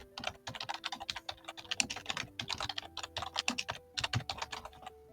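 Rapid, steady typing on a computer keyboard, close and clear, with dense irregular key clicks throughout and no voice.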